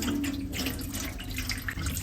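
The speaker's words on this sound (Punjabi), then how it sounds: "ਆਪਾਂ ਨੇ ਇਹਦਾ ਪਾਣੀ ਕੱਢ ਦੇਣਾ" Water drained off urad dal that soaked overnight in a kitchen, running in a steady, close, continuous stream like a tap or sink for about two seconds, with no voices.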